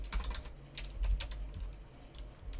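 Quick bursts of typing on a computer keyboard while entering SQL, light clicky keystrokes in uneven clusters, close up and without speech.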